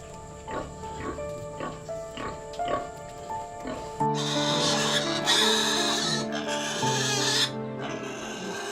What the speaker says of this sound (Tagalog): lalo't malimit umaatungal ang mga biik